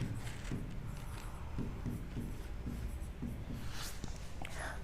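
Pen or marker writing down a list of question numbers for a class 12 maths exercise, steady scratchy strokes in short bursts close to the mic, with faint background noise and no talk.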